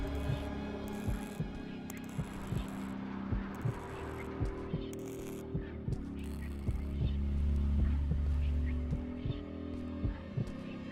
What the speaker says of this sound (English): why do we have the continuous heartbeat sound effect going off?